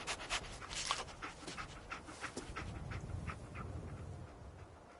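Dogmeat, a dog companion in a video game, pants steadily and sniffs close up, quick rhythmic breaths running through the whole stretch with no talking.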